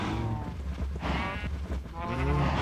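Sheep bleating in a Minecraft server game, several short harmonic bleats sounding close and repeating over continuous game background noise.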